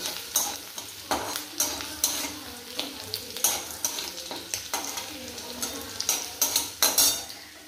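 Chopped garlic frying in a pan for chicken manchurian, with a steady sizzle under regular, rhythmic scraping strokes of a metal spatula, close and fairly loud.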